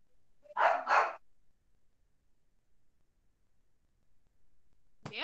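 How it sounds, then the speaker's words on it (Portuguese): A dog gives two quick barks close by in a quiet room, followed by a long silence and the onset of another bark at the very end. "Eu vou ali fechar a porta pro cachorro parar de latir"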